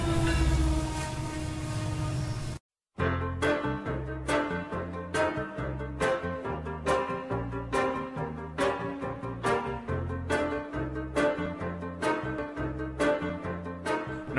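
Passenger train from the movie Silver Streak, running between Los Angeles and Chicago; after a brief silent gap, a steady rhythmic clatter of wheels over rail joints repeats in regular beats, loud and continuous with music-like tonal layers.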